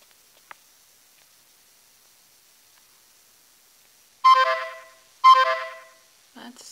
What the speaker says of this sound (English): Sounds like I'm getting text messages as well.